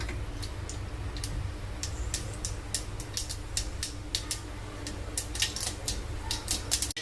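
Mustard seeds splutter in hot oil in a kitchen pan, a run of sharp, irregular crackling pops that grows denser toward the end over a low steady hiss.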